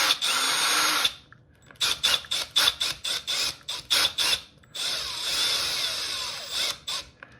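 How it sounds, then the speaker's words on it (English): A power driver spins a bolt through Element Gatekeeper clipless bike body mounts, starting with one long whir, then a run of short rapid pulses, then another sustained buzz, close and loud with no talking. "Grab your driver."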